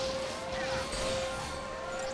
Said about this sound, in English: we are gonna have the sound of the siren for the rest of the game